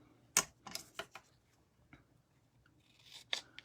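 Scissors snip the top off a craft flag in a few quick, close, crisp cuts separated by short pauses, with light handling rustle in between and no voices.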